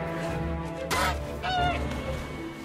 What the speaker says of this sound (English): Okay, this bird is circling around me.